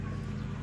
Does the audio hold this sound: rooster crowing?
yes